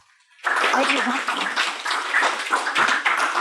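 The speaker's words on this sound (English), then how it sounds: "I would love if you guys give her a huge round of applause and welcome her up" An audience bursts into sustained, fairly loud applause to welcome a guest speaker onto the stage at a talk on building a brand, with a few voices mixed in.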